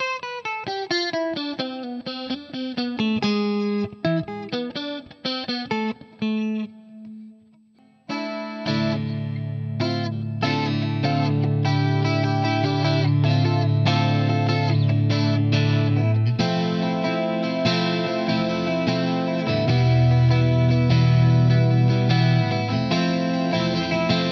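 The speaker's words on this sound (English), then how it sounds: "Here is the neck and the middle." Electric guitar on the neck and middle pickups playing single picked notes at first, then fuller strummed chords with a shimmering chorus effect, steady and moderately loud.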